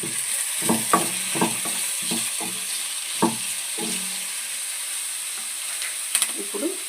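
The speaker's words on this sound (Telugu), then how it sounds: "కరివేపాకు వేసుకుందాం ఒకసారి కలుపుకుందాం" Chicken curry fries with a steady sizzle and hiss as curry leaves go into the pan, while a spoon scrapes and stirs in repeated close knocks.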